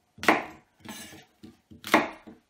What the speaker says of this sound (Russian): просто вот на 4 части мы разрежем наши яблоки на 4 части